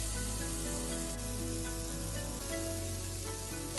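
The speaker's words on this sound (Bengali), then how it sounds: "কাঁচা লঙ্কাটা দিয়ে খুব ভালো করে মিশিয়ে নেব।" Green chillies are stirred into a fish roe curry frying in a pan, giving a continuous faint sizzle with a low steady hum underneath and no talking.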